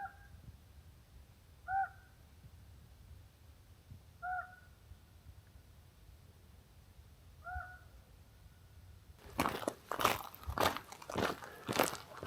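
A raven calls in a remote desert canyon in Capitol Reef's Lower Muley Twist: four short, clear croaks spaced a few seconds apart, somewhat distant, followed by a burst of close wind buffeting and rustling.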